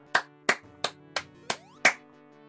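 Six slow, evenly spaced claps ring out one at a time over a faint sustained musical tone, each hit sharp and distinct.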